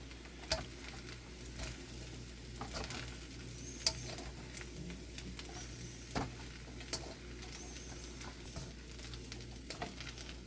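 Beef fried rice stirred in a wok at home, with a low, steady sizzle under scattered sharp clicks and scrapes of the utensil against the pan. No voices.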